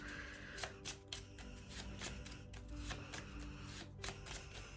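Quiet, close riffling and flicking of a small deck of about ten playing cards, several short bursts in a loose rhythm, with no talking.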